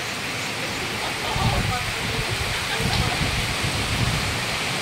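Heavy typhoon rain pours down in a dense, constant roar of hiss and spatter, with a faint voice murmuring underneath.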